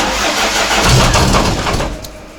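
VAZ 2114 car engine with a swapped motor cranking and catching, a loud close rumble that surges and then settles toward a steadier idle.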